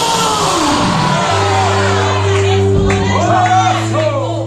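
Loud shouting and whooping from a congregation during a lively church service, with a sustained voice rising above a crowd wash, dense and energetic throughout.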